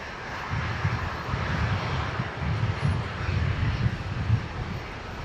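A Beechcraft King Air 360 turboprop taxiing out for departure at Brisbane Airport, a steady broad engine roar that holds loud and constant throughout, heard from a moderate distance with no talk.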